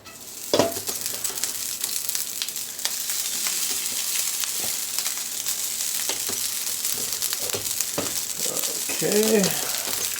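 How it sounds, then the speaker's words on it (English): Rice scooped into a hot pan for pineapple fried rice with chicken and vegetables, with a steady close sizzle, scattered scraping and spatula knocks, and a brief voice near the end. "so now we're going to start putting the rice in"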